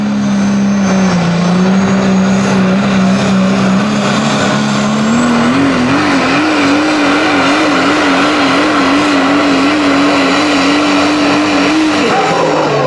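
Old school Chevy diesel truck in the Pro Stock Diesel class grinding down the track at a pro truck pull, its engine droning loud and steady for about twelve seconds with a rising, wavering pitch before cutting off near the end.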